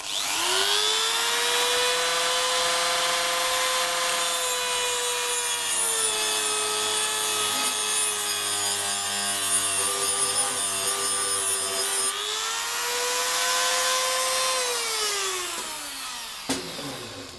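A hand saw cuts back and forth through a part during a Hansa electric oven repair, worked from the other side to even out the kerf angle; steady, loud, continuous rasping that runs alone for the whole stretch.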